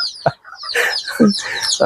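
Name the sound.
domestic chickens clucking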